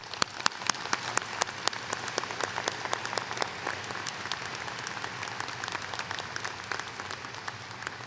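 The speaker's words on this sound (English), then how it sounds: "If we could just have one more round of applause for Chrissy Sanford." Steady applause fills a law school graduation ceremony, a dense patter of many hands clapping at moderate distance, with a few sharp individual claps standing out and no talk over it.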